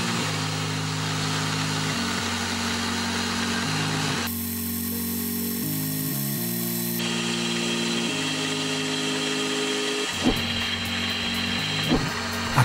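A milling machine hums steadily while removing waste stock from a puzzle workpiece, its motor tone shifting pitch in stages as the feed changes, ending with a few sharp clicks and knocks.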